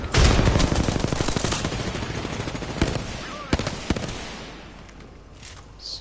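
A gunfire barrage in the video game Apex Legends: rapid automatic bursts crackle at first, then thin out into scattered single shots that fade, sounding somewhat distant.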